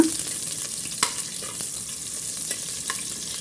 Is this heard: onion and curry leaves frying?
yes